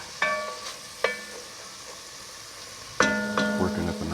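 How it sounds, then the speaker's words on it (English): A spoon stirs nicely browned onions with fond in a pot, making a few close scrapes and clinks against the pot over a soft, steady sizzle. "give this a quick stir. Got the fond working on here."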